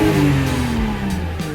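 Toyota JZX90 with a 1JZ straight-six engine revving loudly up close, a steady sustained engine drone that shifts slightly in pitch, heard alone with no talking.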